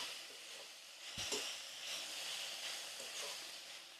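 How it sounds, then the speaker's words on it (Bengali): Chopped tomato fries with leftover cooked rice in a pan, a soft steady sizzle with quiet scraping stirs and a brief knock of the spatula partway through. "টমেটো কুচিটা দিয়ে কিছুক্ষণ একটু নেড়ে নিতে হবে।"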